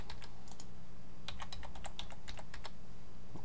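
Keystrokes of a password being typed on a computer keyboard, a quick run of sharp clicks after a short pause, steady and fairly close, with no one talking.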